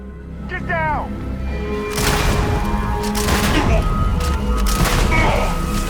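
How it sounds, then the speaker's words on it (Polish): A double-barrel shotgun fires in the space game Starfield, with heavy booming blasts at irregular intervals layered over continuous game noise and some background voice sound. "A to jest ta dwururka."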